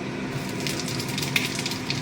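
Panch phoron five-spice tempering in hot oil for a soybean and vegetable curry, giving a steady, close, even sizzle with a few small crackles and no voices.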